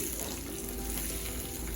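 Hot oil tempering with spices sizzles steadily and loudly as it is poured into fenugreek-leaf chutney, a continuous dense crackle with no pauses.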